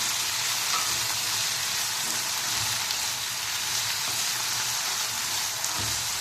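Chopped green onion and potatoes sizzling in a pan over high flame, a steady bright frying hiss throughout with occasional soft stirring knocks, close and continuous.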